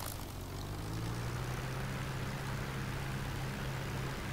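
A P-51D Mustang's piston engine and propeller run up in a flight simulator game, producing a steady, loud, droning hum with a low tonal rumble that holds evenly throughout, no voices.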